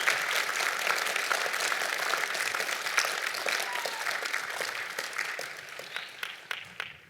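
Sustained audience applause at a university commencement ceremony honoring teachers and supporters, dense and steady from a large crowd, gradually thinning toward the end with a few louder individual claps.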